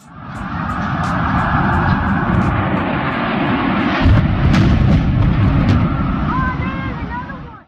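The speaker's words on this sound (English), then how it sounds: "Flight 175 hit the South Tower between the 78th and 82nd floors at 9:02 a.m." Loud roaring jet airliner engine noise with a heavy rumbling blast, sustained and booming for several seconds, as Flight 175 strikes the South Tower and explodes in a fireball.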